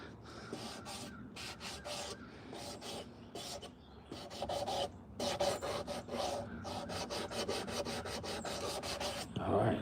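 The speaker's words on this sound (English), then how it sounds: "You spend a few minutes sanding in spots," A carved wooden spoon is sanded by hand, giving steady rasping strokes in repeated bursts, close and fairly loud, growing more continuous toward the end.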